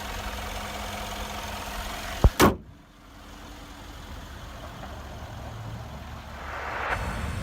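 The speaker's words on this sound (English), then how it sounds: "Very powerful engine. Now let's shut it down" A 2017 BMW X5M engine idles steadily, then a sharp click and brief surge mark the shutdown, after which the engine noise drops away to quiet background hiss.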